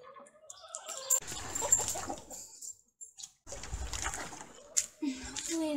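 A squirrel hide being washed in water to rinse out salt: sloshing and splashing in bursts with quiet gaps, along with background chirps and some talking.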